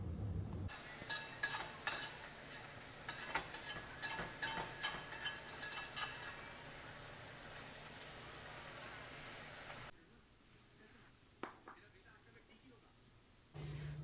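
Dishes being washed at a sink: running water with quick clinks and clatters of plates and utensils for several seconds, then a quieter stretch of low hum with a single knock, close by.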